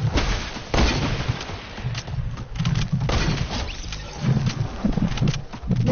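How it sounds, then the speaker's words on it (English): Repeated chili grenade explosions in a video game, a dense run of booming blasts and crackling bursts close up, loud and continuous with no talk. "No more chili grenades allowed."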